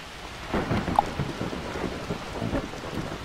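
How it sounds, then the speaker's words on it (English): Heavy rain with rolling low thunder from a thunderstorm in the video game Skyrim, a steady wash of rainfall with a few deeper rumbling swells, fairly quiet and with no voices. "that thunder is loud."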